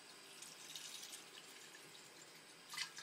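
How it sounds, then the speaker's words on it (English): Water runs into a glass sprouting jar being refilled after rinsing, a soft steady trickle and splash close by with a brief louder gush near the end. "And then I just start putting some water back in there."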